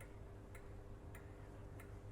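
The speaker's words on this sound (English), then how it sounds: "should be able to hear a ticking sound. That's the loco." A locomotive in the Train Sim World 6 simulator, on the West Coast Main Line between Crewe and Preston, ticks in three evenly spaced sharp clicks over a steady low engine hum.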